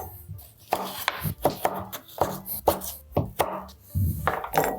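A knife chops raw fish into cubes on a board for a poke bowl, giving about a dozen sharp, close cuts in an uneven rhythm with brief pauses between strokes.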